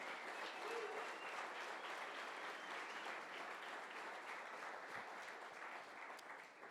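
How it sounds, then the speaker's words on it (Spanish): Congregation applauding at a church service, a steady dense wash of clapping hands that holds evenly throughout and tapers slightly at the end. "Denle ese aplauso al Señor, por favor"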